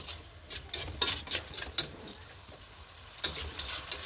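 Chicken with green chilli, ginger and garlic paste, cumin, coriander, turmeric and black pepper is stirred in a pan, with soft scraping strokes and occasional sharp metal taps over a faint sizzle, no voices.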